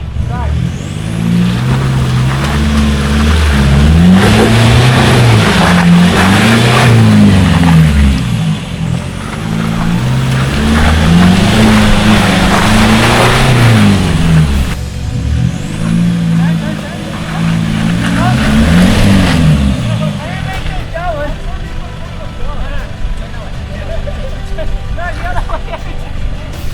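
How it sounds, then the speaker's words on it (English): Toyota Hilux engine revving hard while stuck in mud on a wet off-road track, loud and close, rising and falling in repeated surges, with voices talking over it. "The Hilux is really struggling here"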